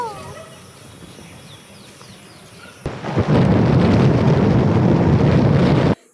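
Rain on a wet, stormy day, starting with soft ambience and birdsong before loud, steady rain and thunder roar in suddenly and continue close by until cutting off at the end.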